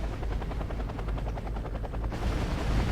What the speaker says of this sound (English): I also brought in the brand new reconnaissance helicopter.